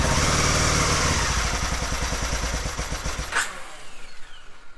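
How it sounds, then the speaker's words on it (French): Aprilia Caponord 1000 ETV motorcycle engine running steadily at a loud, close idle with a rhythmic throb that fades toward the end. "Bon, le moteur il tourne."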